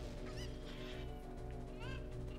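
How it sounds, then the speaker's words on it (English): Video game chicken squawks and honks in short bursts, loud and close, over a steady droning game soundtrack. "No, you dumb chicken!"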